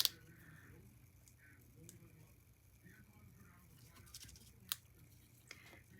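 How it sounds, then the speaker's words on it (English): Scissors trimming a photo for a scrapbook page, a few quiet close snips and paper rustles with faint talking underneath. "trim this a little bit so that it fits in here a little bit better"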